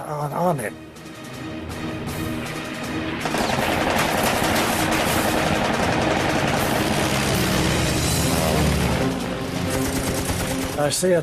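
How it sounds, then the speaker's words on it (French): A long, rapid burst of machine-gun fire from a fighter plane in aerial combat, dense and continuous for several seconds, loud and close under a narrator's voice. "J'étais très bien placé pour tirer une rafale."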